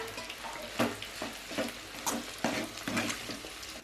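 Egg frying with Yippee chicken noodles in a pan, a steady sizzle broken by repeated stirring scrapes and clinks at a roughly regular rhythm, close and moderately loud.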